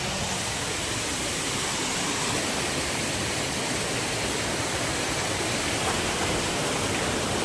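Water rushing and flowing steadily, a dense, loud, unbroken roar like a waterfall or fast stream that fills the whole stretch without a pause.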